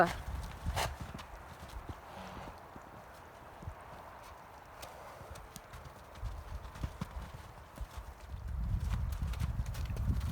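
Horses move about together in a herd, hooves clopping softly and irregularly on the ground at a moderate distance, with a heavier shuffle of movement building near the end.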